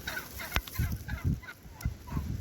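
Turkeys gobble and cluck on a farm in a short run of close, moderately loud calls, with a few sharper knocks between them.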